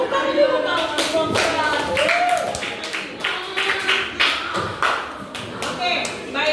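A small group of participants in a school classroom session claps in short uneven bursts, with distinct individual hand claps and knocks close by, mixed with children's and adults' voices talking over them.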